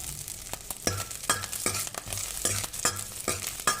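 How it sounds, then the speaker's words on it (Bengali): Grated coconut fries in a pan, a soft sizzle broken by regular scraping strokes of a spatula stirring it, close and fairly quiet with no voices. "তার আগে নারকেলটাকে একটু ভেজে নিচ্ছি।"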